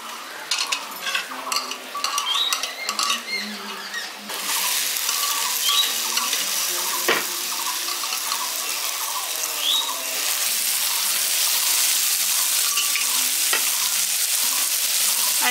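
Boiled jackfruit and fried potato are stir-fried with cooked masala in a pan. Scattered scraping of a spatula comes first, then a loud sustained sizzle with steady stirring strokes close by, without speech.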